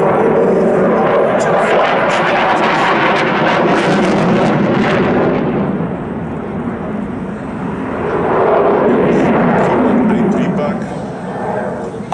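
A Saab 39 Gripen fighter jet with its Volvo RM12 engine at an air show, a loud continuous roar that swells and eases, overlaid with someone talking throughout.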